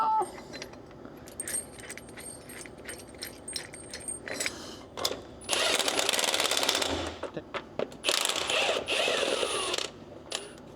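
Ratchet wrench bolting a part onto a Ford LTL9000 truck during a wetline and PTO installation, with rapid clicking bursts and metallic rattles, close and intermittent, sometimes denser and louder.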